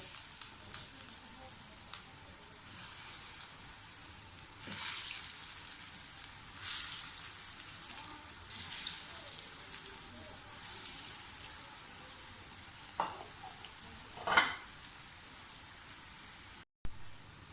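Potato cheese nuggets fry in a preheated pan over a medium flame, giving a steady, close sizzle with soft crackles and a few sharper pops near the end.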